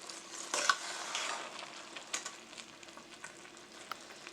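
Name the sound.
stirring bhagi callaloo okro rice in pot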